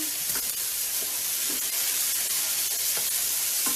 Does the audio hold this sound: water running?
no